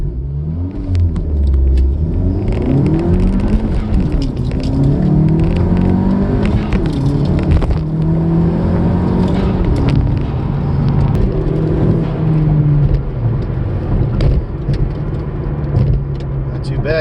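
Turbocharged Honda Civic FK7 launching and accelerating hard, loud engine revs climbing through rising pitch sweeps and gear changes, with a person talking over it.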